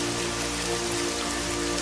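Steady rain pours over the animated story village of Badalpur, a dense, even hiss of drops that holds unbroken and close throughout with no voices.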